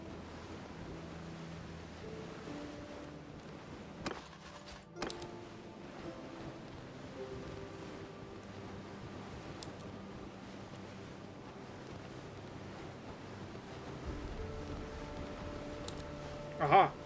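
Ocean waves and wind wash steadily around a sailing ship at sea in Mount and Blade 2 Bannerlord, a continuous surf-and-wind bed with a few brief louder knocks and a swell near the end.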